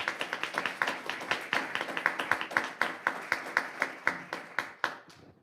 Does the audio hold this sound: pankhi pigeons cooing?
no